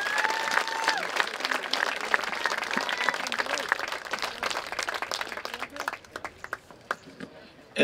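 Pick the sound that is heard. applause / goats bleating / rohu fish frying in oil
applause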